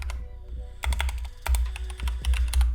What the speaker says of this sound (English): this is a new keyboard